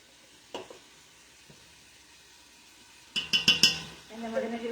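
Garlic dropped into a hot pan for Filipino pancit sizzles and crackles in short bursts after a quiet start, then settles into a steady, soft frying hiss, close by.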